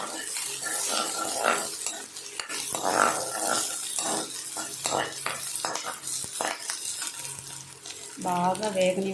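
Curry leaves roasting in a pan with oil, a steady crackle and sizzle running throughout, punctuated by the clink and scrape of a stirring utensil against the pan, fairly close and continuous.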